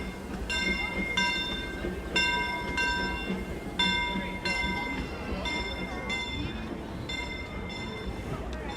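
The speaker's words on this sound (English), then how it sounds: "Here come the train." A theme park train passing, with a steady rumble, repeated clear bell dings in a regular rhythm and a horn-like tone, heard under excited voices in a crowd.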